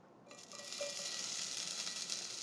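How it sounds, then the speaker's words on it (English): A steady, close sizzle rises quickly and holds as onions hit a hot pan, a bright hissing crackle with no voices. "You should hear a sizzle when you drop the onions in if you're doing it right."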